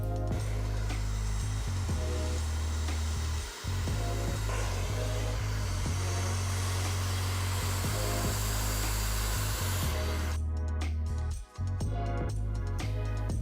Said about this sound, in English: so I'm gonna blow dry it in the direction that it's going to be